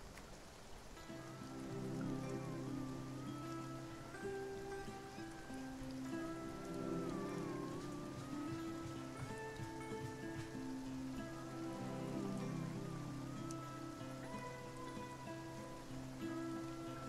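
Rain falls in the video game Spiritfarer as a steady patter that runs under soft, tonal background music with a wandering melody, continuous for the whole stretch with no one talking.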